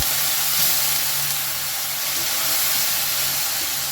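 Spice masala with a splash of water frying in a pan on a gas stove for brinjal bharta, a steady broadband hiss and sizzle that runs without break at close range, with no voices.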